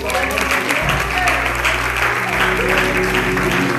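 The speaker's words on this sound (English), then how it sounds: "Come on, clap your hands." A church congregation claps during a Sunday morning worship service, steady hand clapping layered over sustained music with a deep bass tone and voices singing or speaking along.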